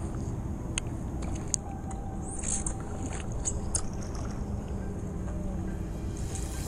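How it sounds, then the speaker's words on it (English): A kayak paddled on open water near Key West: a steady, close wash of moving water and wind, with light splashes and occasional drips from the paddle. "Oh shit. Paddle, Jeff, paddle"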